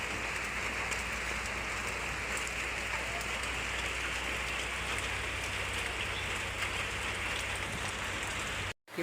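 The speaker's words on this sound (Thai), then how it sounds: "ฝนตกแบบนี้เนาะ" Heavy rain pours in a constant broadband hiss throughout, with no voices. It cuts off abruptly at the very end.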